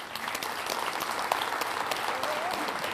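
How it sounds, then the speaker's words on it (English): A keynote audience applauds with dense, steady clapping throughout, fairly soft and distant. "give her a round of applause"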